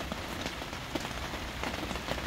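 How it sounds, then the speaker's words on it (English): Steady rain patters on a surface, a dense continuous hiss with scattered individual drops, fairly close and even throughout. "It's raining out."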